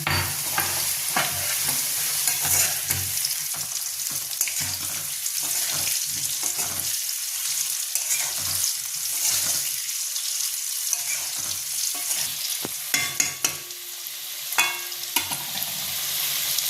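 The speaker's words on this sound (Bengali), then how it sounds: "এর মধ্যে আমি জিরে আর তেজপাতা ফোড়ন দিলাম।" Steady oil sizzling and crackling close up as cumin and bay leaf are tempered, with occasional stirring clinks and scrapes, no talk.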